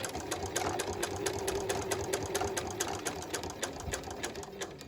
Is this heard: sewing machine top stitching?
yes